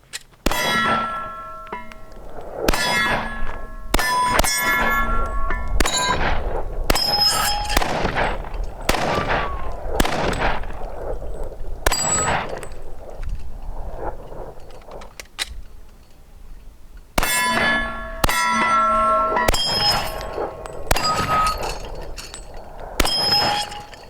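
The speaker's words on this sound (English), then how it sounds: "Really like to knock that small gong around." Repeated gunshots from a Glock 21 in .40 Super with a 6-inch ported Barstow barrel ring off a small steel gong, sharp metallic clangs and pings in irregular strings with short pauses, loud and close outdoors.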